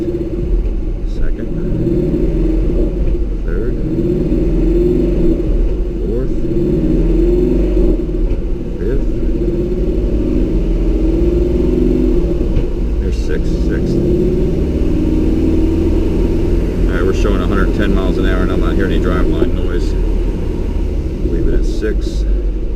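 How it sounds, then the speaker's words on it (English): A 2012 Shelby GT500 fitted with an aluminum one-piece driveshaft runs in gear at low speed, a steady deep engine and driveline rumble heard close, with people talking over it. "we are going to put the drive line in motion, crawl under there and just take a look at it"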